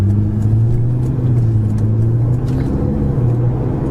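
A Ferrari 488 GTB cruises at low speed in a high gear, its engine giving a steady, deep droning hum from inside the cabin that stays loud and even throughout.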